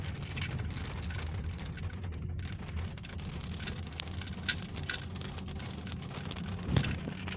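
Heavy raindrops patter densely on a car roof during a drive on a road in Taguig, a steady drumming with a low rumble of the vehicle underneath.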